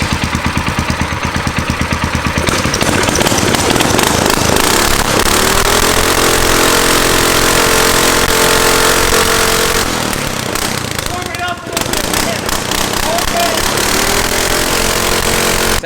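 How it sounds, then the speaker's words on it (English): A Ram project vehicle's engine running steadily just after a new carburetor was fitted, loud and close with a continuous throbbing drone and a brief dip in revs near the end. "Let's fire her up, see how she runs with the new carburetor."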